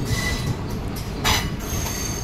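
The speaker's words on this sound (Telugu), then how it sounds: "ఇది వచ్చేసి చెన్నై సెంట్రల్ రైల్వే స్టేషన్." Train at Chennai Central railway station, wheels squealing and carriages rumbling in a loud, continuous roar with a brief sharp screech near the middle.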